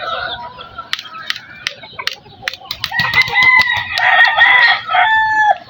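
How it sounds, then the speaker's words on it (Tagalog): A rooster clucks in short bursts, then lets out louder, drawn-out crowing calls, close by and outdoors. "Tandang siya."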